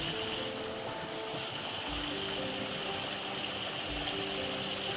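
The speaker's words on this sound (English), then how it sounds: "little waterfall back there" A small waterfall sends up a steady rushing, splashing wash of water, heard continuously at moderate distance with no voices over it.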